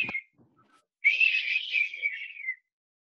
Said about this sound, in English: People are whistling now.